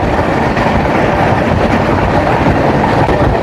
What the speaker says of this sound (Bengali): এটা মালগাড়ি